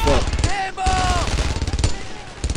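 Rapid machine-gun bursts and rifle shots crack in dense, overlapping volleys during a World War II firefight in Brothers in Arms, loud and close, with shouted voices breaking in between the bursts.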